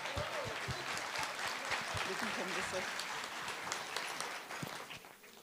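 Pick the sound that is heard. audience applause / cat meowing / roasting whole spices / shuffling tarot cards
audience applause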